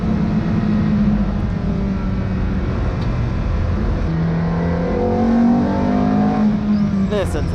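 Ferrari 430 GT3 Challenge race car with silencers fitted, lapping Silverstone on a track day, a loud, steady rasping engine roar heard close from onboard, rising and falling through gear changes, with speech over it.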